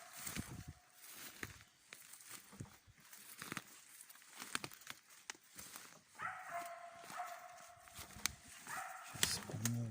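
A laika hunting dog barks in a forest while working birds, distant repeated barks mixed with close rustling, crinkling and footsteps through undergrowth.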